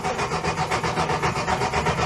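An old vehicle engine, given choke and throttle, cranks over with a steady rapid rhythmic chugging from the starter, loud and close, without catching, and nobody speaks.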